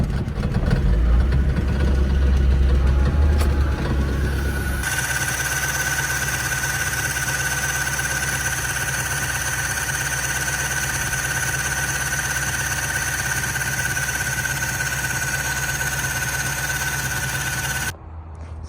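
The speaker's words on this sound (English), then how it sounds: "So I'm gonna start the car." A car fitted with new polyurethane motor mounts cranks and catches, a rough loud rumble settling into a steady idle with a high whine running over it, then cutting off near the end.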